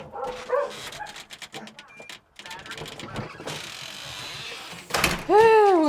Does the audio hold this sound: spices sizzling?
no